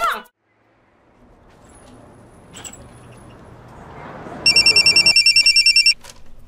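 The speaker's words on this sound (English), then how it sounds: "I'm calling you on my new cell phone." A new cell phone rings with a rapid electronic trill in one short burst, loud and close, after a stretch of quiet rustling and faint background noise.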